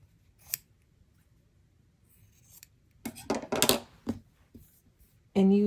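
Scissors cut apart painted paper shamrocks in a quiet room, with a few crisp snips spaced apart and then a quick cluster of cuts. A brief voice comes in at the very end.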